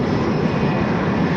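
A six-year-old Lockheed L-1011 TriStar airliner drones in flight, a steady dense engine roar with no breaks and no voices.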